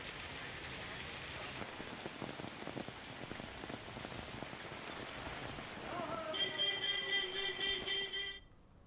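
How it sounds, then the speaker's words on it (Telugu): Rain falls steadily during Cyclone Fengal at Tirumala, a dense, continuous hiss of drops on surfaces that stays fairly even, with a brief tonal whine rising near the end. "తిరుమలలోనూ వర్షం కురుస్తోంది"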